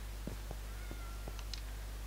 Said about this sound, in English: Oh, hello, cat. You're stuck on the roof